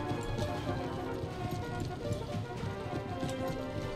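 In Empire: Total War, horse hooves clatter in a steady, dense clip-clop, a galloping herd heard continuously and fairly loud, with no voices on top.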